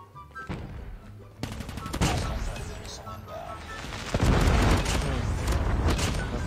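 A submachine gun in a ranked mobile shooting match sprays rapid, loud bursts that grow denser and heavier partway through, mixed with game effects and a player talking over the shooting.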